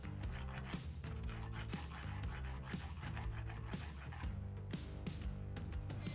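Hand file rasping on a bicycle brake lever during framebuilding, steady repeated strokes close up, with tonal ringing or music-like hum underneath throughout.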